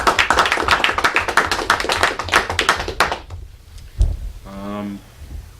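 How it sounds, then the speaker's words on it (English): A room of people at a school board meeting claps loudly in a dense, sustained burst of applause for about three seconds, then it quickly fades, followed by a brief thud and a short voiced sound. "Let's give her a round of applause."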